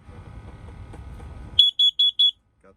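A battery-powered carbon monoxide alarm set up for ice-fishing camping with heaters, giving four loud, evenly spaced shrill beeps in a row after a stretch of low background rumble.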